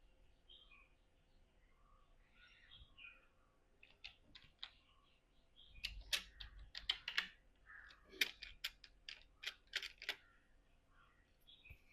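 Computer keyboard keys clatter in quick, uneven bursts of clicks, close and fairly quiet against a faint room hiss, with no voices.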